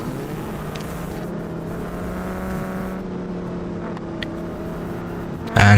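Formula 3 race cars in a BeamNG racing game hold a steady, droning engine note as the pack runs behind the safety car, continuous and without talk, ending in a sudden louder burst.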